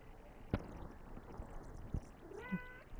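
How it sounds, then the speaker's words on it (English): A house cat lets out one short, close meow near the end, over a faint room hum with a couple of soft thumps before it. "One of my cats is meowing at me."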